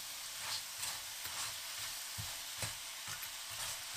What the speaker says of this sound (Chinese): 炒匀后再放料酒去腥，继续翻炒均匀